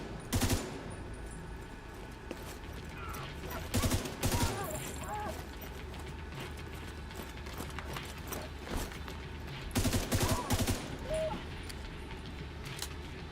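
Burst rifle gunfire in The Division 2, several short three-round volleys spaced seconds apart, loud and sharp against a low ambient game bed.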